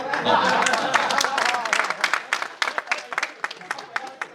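Audience applause at a live Hindi speaking event, a dense burst of clapping that thins into scattered claps, with the crowd clapping loudly and close throughout.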